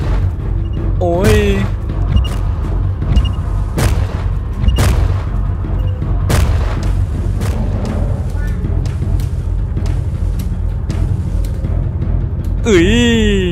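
Bombs keep going off in the Roblox zombie game Field Trip Z, a run of loud, deep booms and sharp blasts layered over a steady rumble, with a few whooshing sweeps mixed in and a voice talking now and then.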